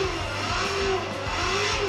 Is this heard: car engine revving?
yes